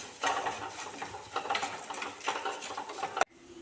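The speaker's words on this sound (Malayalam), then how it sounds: "അത് നന്നായി ഇളക്കി കൊടുക്കാം" Fenugreek powder is stirred into puli inji in a pan, producing a steady scraping and rasping of a spoon against the pan for about three seconds that stops abruptly.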